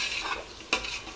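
Onions sautéed and stirred in a pan on low heat for chicken biryani, with a soft continuous frying hiss broken by two sharp stirring scrapes near the end.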